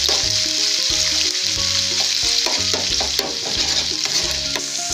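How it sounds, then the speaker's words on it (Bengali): Onions sizzle steadily in a hot pan for a masala dosa filling, with repeated scraping and stirring strokes throughout, close and loud with no talking. "এবার একে একে আমি এটি পেঁয়াজ ভাজা ভাজা হলে তারপর আমি আরো জিনিসগুলো অ্যাড করবো।"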